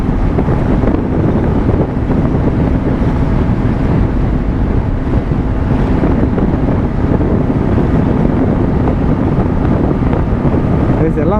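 Strong wind roars across the microphone while riding a Yamaha RayZR scooter on a bumpy road, a loud, steady buffeting rush that fills the whole stretch with no break.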